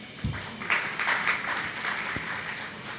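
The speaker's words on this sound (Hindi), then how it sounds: "तालियां आपकी बजती रहें, तालियों के माध्यम से हम इनका अभिनंदन करें" Brief applause from an audience at a religious gathering in Shikharji honoring a doctor, a short, fairly faint burst of clapping with a few low thumps and no talk over it.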